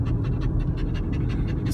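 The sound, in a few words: dog panting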